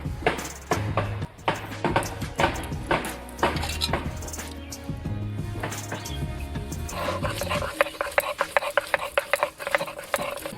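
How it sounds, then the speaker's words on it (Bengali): Melon seeds are ground into a paste, with a rapid series of close rubbing, scraping and knocking strokes in an uneven rhythm, loud and alone with no talk. "এখন আমি মগজদানা বেটে নেব।"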